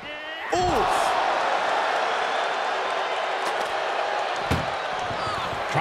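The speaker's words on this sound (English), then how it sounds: "Trying to at least slam one door shut." Metal ambulance doors slam in an Ambulance Match of a wrestling video game: a sharp bang opens, then a loud roaring arena crowd continues, with a second thud near the end under a commentator's voice.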